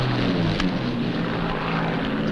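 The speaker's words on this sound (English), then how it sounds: "It's the first British plane we've had." A British propeller plane of the World War II era passing close overhead in the desert near Cairo, a steady, loud droning engine hum that holds throughout without talk.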